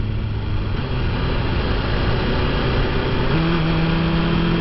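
A 2019 BMW S1000RR motorcycle engine downshifting, heard as a loud, steady, close drone that jumps up in pitch near the end as the gear changes, with no voices.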